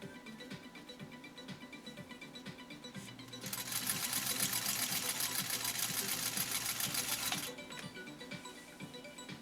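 A 1949 Singer 66-8 sewing machine stitches light polyester ribbon, its steady mechanical whir rising louder for about four seconds in the middle, with softer idle clicking before and after.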